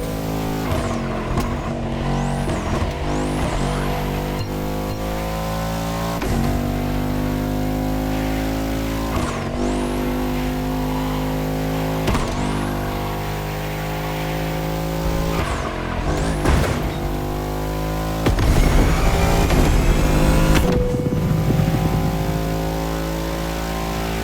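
Bugatti hypercar concept engines in The Crew Motorfest video game rev hard and climb through gears, each upshift dropping the pitch before it rises again in a steady, loud whine, with a sharper surge of acceleration near the end.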